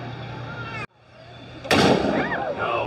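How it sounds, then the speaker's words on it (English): A pirate ship cannon aboard the Sailing Ship Columbia at Disneyland fires once with a sharp, loud boom and a rumbling tail, following a short quiet gap after a steady hum. "For the cannon she be a might loud, and the gunner's aim be a might poor."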